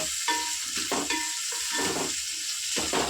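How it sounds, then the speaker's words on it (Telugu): Six small tomatoes frying in a pan for egg dum biryani, a continuous close sizzle with repeated stirring scrapes and bubbling pops throughout, no talk. "నేను ఒక ఆరు టమాటాలు వరకు వేసుకుంటున్నాను"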